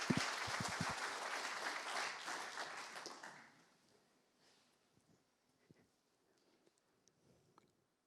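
Applause from a small online lecture audience claps steadily for a few seconds, then fades out, leaving near silence with a few faint clicks.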